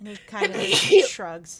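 A single sneeze from a person in the middle of conversation, brief and fairly loud, surrounded by people talking.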